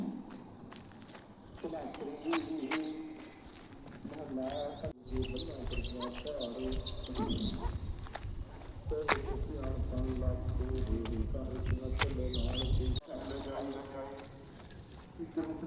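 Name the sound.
birds calling outdoors in the early morning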